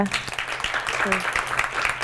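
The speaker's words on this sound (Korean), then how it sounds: "큰 박수 부탁드리겠습니다" Brief, fairly soft clapping from a forum audience thanking a research fellow after a startup talk, mixed under a host's short spoken word.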